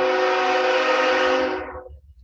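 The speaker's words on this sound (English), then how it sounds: "Another train." A train horn blares loud and steady for about a second and a half, then cuts off and fades, leaving faint low rumble behind.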